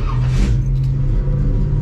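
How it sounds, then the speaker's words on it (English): A 1971 Chevrolet C10 pickup with a newer 350 V8 under the hood fires up: a brief starter whirr catches into a loud, close, throaty rumble that settles into a steady idle, with no talking. "It's going to fire the truck up."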